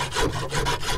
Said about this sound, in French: après je me sers de cette lime Equan